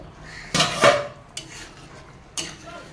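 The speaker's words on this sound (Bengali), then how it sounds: "এবার আমি ঢাকনাটা খুলবো" A metal lid comes off a cooking pot of boiled potatoes for jackfruit dhoka, giving a sharp clatter and scrape, followed by two lighter metallic clinks.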